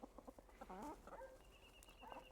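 Backyard chickens cluck in short bursts while scratching the ground for worms, with a higher call trailing off and a rooster among the flock, close and moderately loud.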